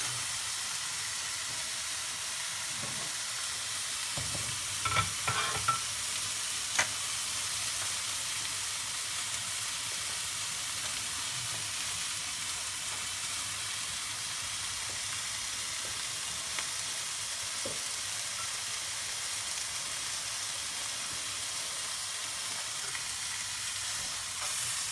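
Steady close sizzle of beef filet browning in a pan for filet with gorgonzola and walnuts, a constant hissing frying noise with a few faint clicks of a utensil partway through.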